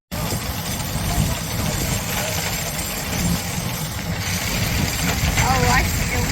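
A 99-year-old steam engine runs steadily while powering wheat threshing, giving a continuous, dense mechanical rumble and clatter at an even level. Voices can be heard faintly beneath it.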